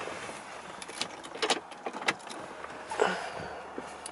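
Electric motors whir in short bursts inside a single-owner Land Rover Range Rover Vogue as the steering wheel and seat adjust, with faint clicks in a quiet cabin and no talking.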